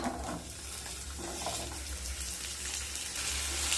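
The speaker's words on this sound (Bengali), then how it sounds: "সেই সময় কেটে রাখা আলু দিয়ে দেব" Cut potatoes fry in hot oil with nigella seeds, a dense, loud, continuous sizzle and crackle close by, steady throughout with no speech.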